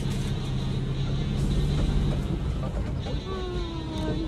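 A car driving along a road near Notch Point, Yeppoon, Queensland, a steady engine and tyre rumble heard from inside, with a voice briefly speaking over it.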